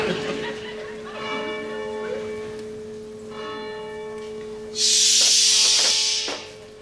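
A church bell strikes with ringing, sustained tones that decay and overlap, followed by a loud hissing burst near the end.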